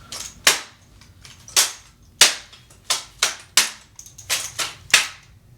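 Drill rifle being spun and caught in false spins during armed exhibition practice, with nine sharp slapping catches in a steady repeating rhythm, close and crisp with quiet gaps between.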